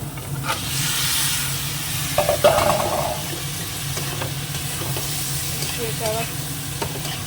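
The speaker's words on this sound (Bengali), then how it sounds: "বেশ শুকনো করে একটু ভেজে নিই" Prawns fry in a hot pan and are stirred, making a loud continuous sizzle with repeated scraping stir strokes close by.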